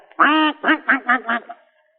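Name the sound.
man imitating a duck quacking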